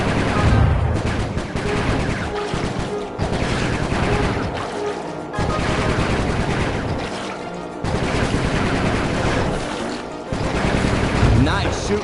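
Heavy automatic gunfire in a Sly video game, loud and continuous, in repeated long bursts broken by brief pauses, with game voices and effects mixed in.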